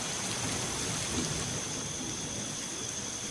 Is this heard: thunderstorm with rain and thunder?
yes